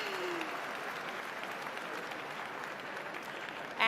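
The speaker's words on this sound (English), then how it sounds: "let's give him another round of applause" Steady audience applause at a formal embassy reception celebrating Israel's Independence Day, a dense wash of clapping at even loudness throughout with no talk, swelling slightly at the very end.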